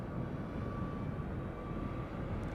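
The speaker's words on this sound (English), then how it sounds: "A321neo. KLM at 12:51. There it is." A KLM Airbus A321neo jet departs Schiphol, heard as a steady, broad engine roar that stays at an even level throughout.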